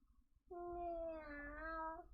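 A cat gives one drawn-out, clear meow, close and moderately quiet, rising slightly then falling before trailing off.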